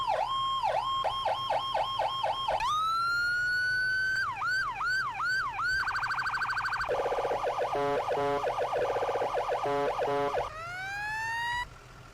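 Several loud emergency vehicle siren patterns in succession in the video game Into the Flames: rapid yelping wails, a steady rising tone, then fast warbling and a final rising wail, with no talking.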